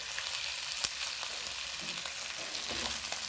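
Sardines and their oil sizzling in a hot pan while cooking low-carb keto noodles, a steady bright frying hiss with a few small pops and crackles, close and continuous with no voices.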